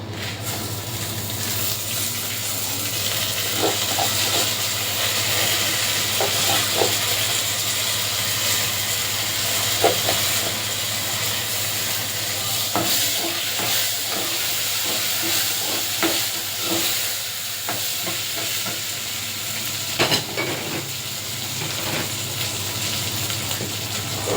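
Potatoes and meat sizzle steadily in a frying pan while being stirred, with scattered scrapes and clinks of the utensil over a continuous loud hiss, no talking.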